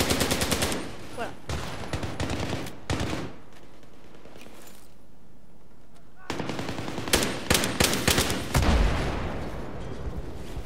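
Battlefield 3 gunfire, loud close machine-gun bursts and rapid shots that stop for a few seconds of near quiet, then resume in heavy volleys.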